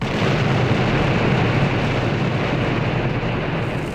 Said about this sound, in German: Eine ordentliche Explosion.